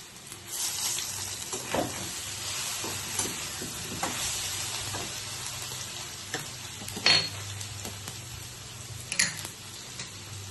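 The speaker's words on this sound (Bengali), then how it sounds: "এখন দিয়ে দেবো আমি একটু কালো জিরে।" Nigella seeds hit hot oil in a pan for a Bengali mustard fish curry, giving a steady close sizzle and crackle with a few louder spits and stirring scrapes.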